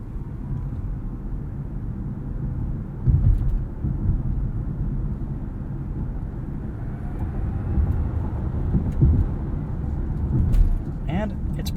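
Inside a 2022 Kia EV6 Wind AWD electric car, low road rumble and tyre noise fill the cabin as it drives and accelerates, with a faint rising whine partway through and occasional bumps.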